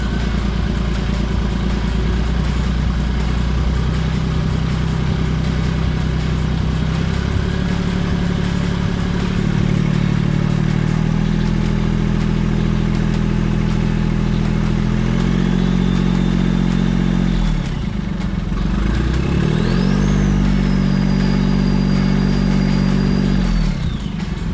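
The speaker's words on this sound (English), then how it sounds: "We'll see how it idles without that exhaust gas going in there." A Smart car engine idles steadily up close with its EGR valve blocked, a constant low rumble that dips briefly and recovers, then settles with a faint whine above it.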